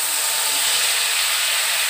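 A spice paste mixed with water is poured into hot oil with cumin, setting off a loud, steady sizzling hiss that holds without a break and has no one talking over it.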